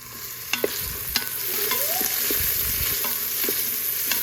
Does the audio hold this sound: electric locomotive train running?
no